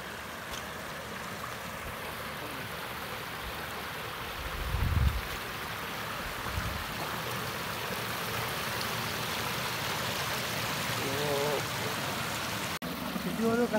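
Floodwater pours like a waterfall down a broken road leading to a Roma settlement in Ptolemaida, a constant loud rushing wash with brief thumps of movement and people talking underneath.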